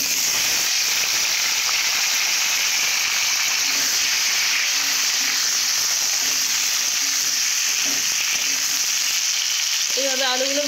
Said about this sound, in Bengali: এইভাবে আলুগুলো ভেজে নেব।